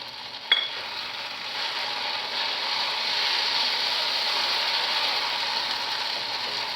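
Tomato and onion masala with Kashmiri chilli fries steadily in a pan while being stirred, a continuous even sizzle for a bitter gourd thokku, opening with one sharp metallic click.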